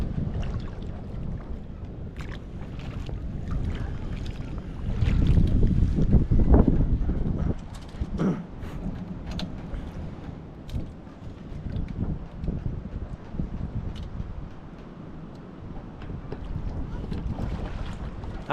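Steady wind buffets a small boat on open water, with a rushing, gusty roar that swells around the middle and continues under occasional faint voices.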